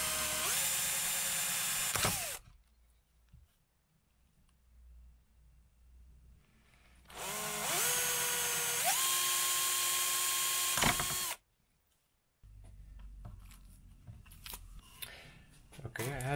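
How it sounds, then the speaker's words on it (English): Power drill boring holes with a 4 mm bit in DIY busbars for connecting LiFePO4 batteries, two loud whining bursts with a rising motor pitch, separated by quiet handling noise and followed by scraping clatter. "So next step is to drill the holes. I have already 2 here, and I'm drilling with a 4 millimeter."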